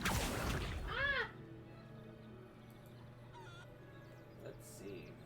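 A chicken in Hogwarts Legacy clucks and squawks in short bursts, one loud call up close at the start, then fainter intermittent clucks over a quiet game ambience.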